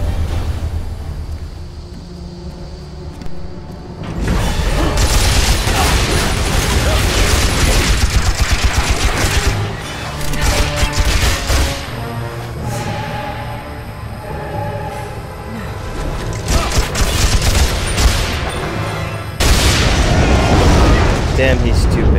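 Repeated gunfire and booming explosions near flammable objects in Tomb Raider: Underworld, loud and dense from the start of the gunfire for most of the stretch, with bursts of shots and blasts over game music and effects; a voice talks at times.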